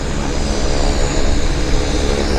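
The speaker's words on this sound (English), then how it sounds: "Decent takeoff, if I dare say so." An airplane takes off at Vancouver airport, its engines producing a loud, steady broadband roar that holds without letup across the short span, with no talk.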